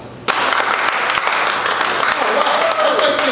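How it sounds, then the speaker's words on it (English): A comedy club crowd breaks into sudden applause, a dense wash of many hands clapping that starts abruptly and carries on steadily with faint voices underneath. "Clap if you've ever been divorced"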